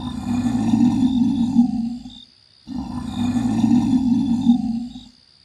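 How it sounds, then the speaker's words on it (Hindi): Two long, deep roars from a lion, each swelling and fading, separated by a short pause, loud and close with no talking. "तभी अचानक शेर के दहाड़ने की आवाज सुनाई देती है।"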